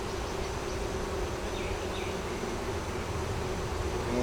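Honey bees swarming around an open double deep hive with a honey super, a dense continuous buzz of many insects close at hand, steady and even throughout with no voices.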